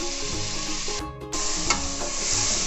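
Mutton pieces for an arvi gosht curry frying in a pot, a close crackling sizzle with rubbing stir sounds and a brief dip partway through, over faint background music.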